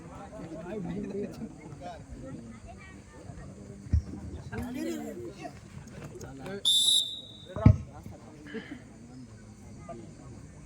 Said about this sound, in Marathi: शिट्टी वाजते